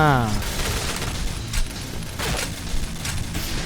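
Gun in the Point Blank shooting game firing a few sharp bursts of shots spread across the moment, set against a steady bed of game background noise.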